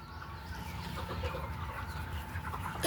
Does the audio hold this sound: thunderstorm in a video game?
no